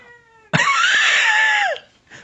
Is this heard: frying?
no